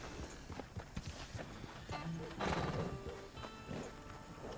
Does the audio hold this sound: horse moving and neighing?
yes